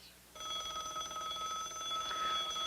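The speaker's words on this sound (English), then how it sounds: "Oh, Tom, the light's flashing on my other line here." A 1950s telephone bell rings on another line, one steady sustained metallic ring that starts abruptly and continues evenly, heard up close with no talking.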